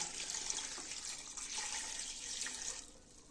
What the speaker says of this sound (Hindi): यह वाला डिब्बा 1 पानी का डालूंगी